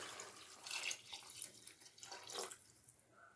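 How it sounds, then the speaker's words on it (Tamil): Water splashes and gurgles into a pot in a short, uneven pour, fairly quiet and close by, with no voices. "தண்ணி அளவு சேர்த்துக்கலாம்"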